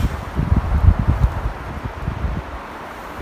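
Gusty wind blows outside a winter tent during a windstorm, a low rumbling roar that swells and buffets in uneven bursts across the whole stretch, strongest early and easing slightly later, with no voices.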